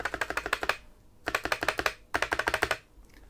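Spacebar and keys clacking on a Keychron K1 full-size wireless mechanical keyboard, pre-lubed, with thin gaffer tape stuck to each side of the spacebar, in three quick close bursts of rapid typing separated by short pauses.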